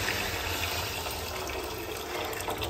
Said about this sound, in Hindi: पानी मैंने ऐड कर दिया।